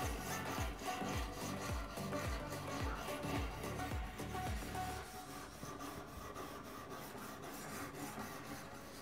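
A worn Trud Vacha knife blade being sharpened on a whetstone, with rhythmic back-and-forth rasping strokes that come steadily and close, then turn into quicker, lighter scraping.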